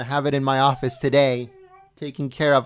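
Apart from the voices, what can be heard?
No everyday noises stand out.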